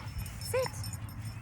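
A golden retriever gives a single short, high whimper up close. It sounds over low background hum as a person speaks briefly to the dog.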